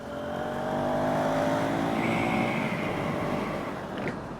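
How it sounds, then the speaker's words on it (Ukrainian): A KTM 390 SMC R motorcycle accelerates, its single-cylinder engine note loud and close, rising steadily in pitch as it pulls through the revs over a continuous roar, with wind noise underneath and no voices. "Ні, клас, мотик набирає, дуже приємно."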